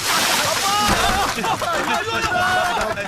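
Water is poured over someone at a tea stall, making a loud, close splash and slosh that runs for a few seconds under excited shouting voices.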